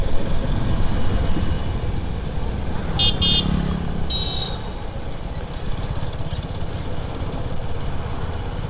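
A motorbike that is losing pulling power rides along a road on a sunny day, giving a steady, loud rumble of engine and wind noise throughout, with a couple of brief high horn-like tones near the middle.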